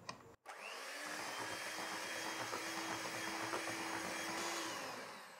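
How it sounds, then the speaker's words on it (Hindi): An electric beater whips cream and condensed milk at high speed for homemade mango ice cream, a steady loud whirring drone that starts after a brief click and holds evenly before tapering off at the end. "अब कंडेंस मिल्क को क्रीम के साथ अच्छे से बीट करेंगे हाई स्पीड पे 1-2 मिनट के लिए"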